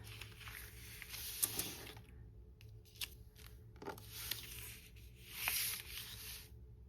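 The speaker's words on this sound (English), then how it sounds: "I've trimmed my paper messy" Scissors trimming the edge of packing paper, with soft crisp snips and rustling in separate bursts, quiet and close, without talk.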